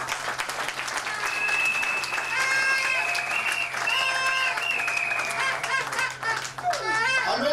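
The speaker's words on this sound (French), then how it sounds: "Bravo, président JP, que j'invite à tous d'applaudir vivement et très fort." Audience applauding loudly and steadily at a sports event, sustained clapping from a crowd with horn-like tones and whistles mixed in throughout.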